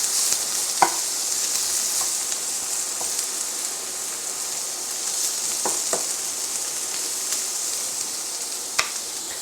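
Brussels sprouts fry in a hot pan with a steady, bright sizzle, punctuated by a few sharp pops and crackles, close and continuous with no talking.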